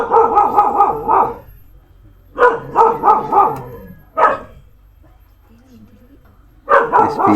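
A nearby dog barks in sharp clusters of three or four, pausing between bursts, then lets out a single bark before another rapid volley.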